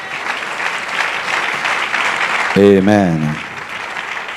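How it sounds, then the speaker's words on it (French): Congregation at a church service applauding, a steady wash of clapping from many hands that holds for about two and a half seconds before a single voice calls out over it and the clapping fades. "Acclamons la parole du Seigneur."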